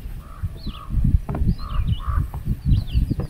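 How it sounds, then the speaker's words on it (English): Harsh repeated caws from a black bird on a quiet remote lake, several calls in irregular succession over low rumbling handling noise and water sounds, moderately close. "hear that? I wonder if it's a duck."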